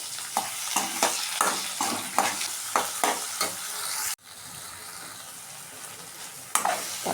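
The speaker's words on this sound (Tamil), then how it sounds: "தக்காளியும் நல்லா வதங்கிட்டு" Onion and tomato sauté in a pan over steady frying hiss, with rhythmic scraping strokes of a stirring spoon. The stirring pauses midway, then resumes with a final few strokes.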